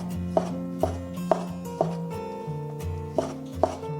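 Kitchen knife chopping pine cake (songgao) on a board for a side dish, six sharp, evenly spaced knocks over a steady low background hum, close and clear with no talking.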